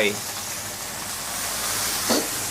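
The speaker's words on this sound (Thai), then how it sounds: "ผัดคลุกเขาให้เข้ากันครับ" Sliced lemongrass stir-fries in a thickened, bubbling sauce for tilapia, a dense steady sizzle with a brief scrape of the spatula near the end, close and continuous.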